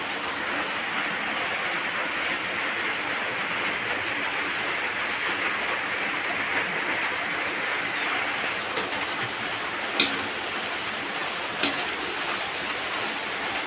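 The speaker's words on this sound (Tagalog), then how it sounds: "Ulan na naman guys." Steady rain falls over a rice field, a continuous close broadband hiss with a couple of faint ticks near the end and no voices.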